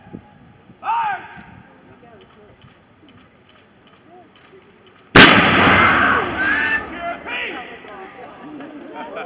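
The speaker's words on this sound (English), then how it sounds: "that's the howitzer firing" A howitzer cannon fires during a live-fire demonstration at an outdoor historical event, one sudden loud blast that rolls and echoes away for several seconds after a shouted command.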